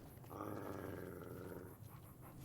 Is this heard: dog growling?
yes